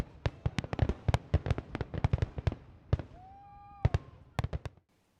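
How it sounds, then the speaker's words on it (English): An Independence Day fireworks display put on by J&M Displays at a Council Bluffs community show, with a rapid run of sharp bangs and cracks, a whistling rocket rising midway, then a final cluster of loud bursts before stopping. "J&M Displays set off the fireworks."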